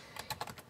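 Quick typing of a web address on a computer keyboard, a short burst of soft, close key clicks with no talk.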